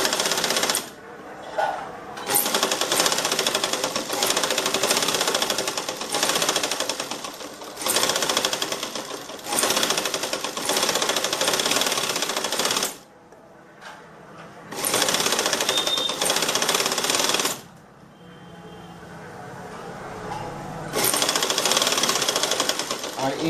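Sewing machine stitching along the folded edge of a nighty, running in loud bursts of a few seconds each with short pauses between runs, close to the microphone.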